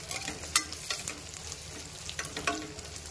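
Onions fry in a pan with a constant crackling sizzle, broken by several quick scraping stirs close by; no voices.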